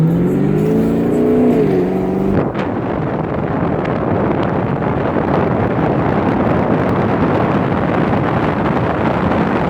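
A 2016 Chevrolet Camaro 2SS convertible accelerates hard after a brief engine tone, giving way to a loud, steady roar of engine and rushing wind buffeting the microphone.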